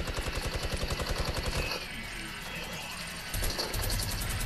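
Rapid gunfire in a video game shooter, with bursts of evenly spaced shots at the start and again near the end and a short lull of rumbling between them, loud and close.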